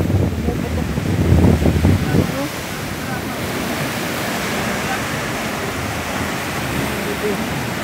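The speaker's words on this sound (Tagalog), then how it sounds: "bigla na lang hahampas yung malakas na alon." Strong waves crash and surge at Sliema beach in Malta, a loud broadband roar peaking early then settling into a steady rushing wash of surf, with wind buffeting the microphone.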